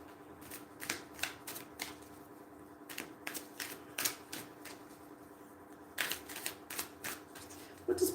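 Tarot cards shuffled by hand in quick riffling bursts, crisp close flutters and taps separated by short pauses, quiet and with no talk.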